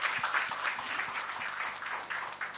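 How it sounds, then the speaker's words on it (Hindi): Audience applause at a Hindi-language film promotion event, a moderate, steady clatter of many hands clapping with no voices over it. "इस बात के लिए तालियां बजाई जाएं पहले तो."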